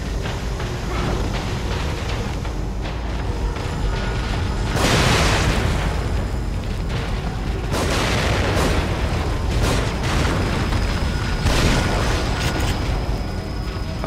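A barrel bursts in the horror video game The Evil Within, giving several heavy booming blasts over a dense, loud, roaring game soundtrack, with bursts spaced a few seconds apart.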